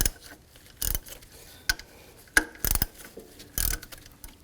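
A 10 mm socket wrench loosens bolts on a 2001-2005 BMW 325xi during water pump work, giving sharp metallic ratchet clicks in short irregular bursts, close and fairly loud with quiet gaps between.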